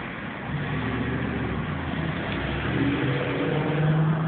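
Road traffic rolls past in a steady, muffled rumble of car engines and tyres, a continuous low drone that builds slightly toward the end, with no voices.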